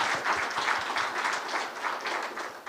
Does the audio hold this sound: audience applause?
yes